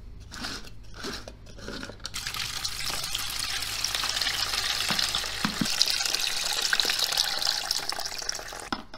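Brine drains off cracked green olives, then fresh water is poured over them in a steady, close splashing rush. A few sharp knocks and clatters come at the start, and the pouring runs on without talk.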